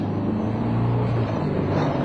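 Moskvich Aleko car pulling away, a loud, laboured low engine drone that strains and rises slightly as it moves off, heard from close by with no talk.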